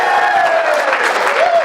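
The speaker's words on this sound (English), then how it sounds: "Let's give a round of applause for the Duncan." An audience at an energy company's business workshop in Fort Worth applauds a presenter coming to the stage. The clapping is dense and steady throughout, with a sustained tone running beneath it.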